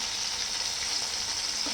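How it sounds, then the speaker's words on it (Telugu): Dried fish sizzles in hot oil as it fries to a light golden colour, a continuous close crackle with faint pops and no talking. "ఎండు చేపలు ఎప్పుడు డైరెక్ట్గా వేసుకోకుండా ఇట్లా ఆయిల్లో వేయించుకోవాలండి"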